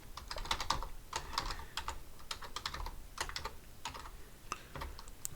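Rapid, uneven keystrokes on a computer keyboard while Java code is typed, coming in close bursts with short pauses and no talking.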